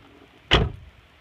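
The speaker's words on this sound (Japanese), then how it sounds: "次に、ドアを閉めてみます。" A car door on a Subaru Forester SG5 swings shut with a single solid, loud slam close by, alone in a quiet space.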